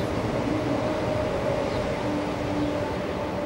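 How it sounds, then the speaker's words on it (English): A train passes by outdoors as a steady, continuous rumble with faint whining tones, holding even in level throughout with no talk over it. "I'll let this train pass."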